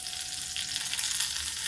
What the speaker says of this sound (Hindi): अब देखिए, इसमें ये मेरा तड़क रहा है।